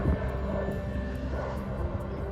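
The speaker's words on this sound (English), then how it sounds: "We are high up for the planes as well here." An airplane flies overhead above high hill country in the Yorkshire Dales, a steady, faint engine drone that holds evenly throughout with no talking.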